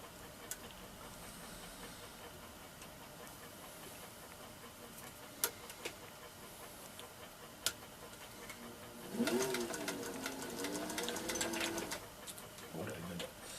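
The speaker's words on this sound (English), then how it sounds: "Now it's ready to wind the bobbin." A Singer 1591 sewing machine winding its bobbin, heard as a few sparse ticks and then a brief close mechanical whirring run of a few seconds, with a person talking around it.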